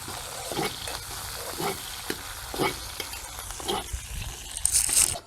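Curry chillies fry in oil for a Jaffna-style village puttu kottu, giving a steady close sizzle broken by several stirring scrapes at regular intervals, with no one speaking.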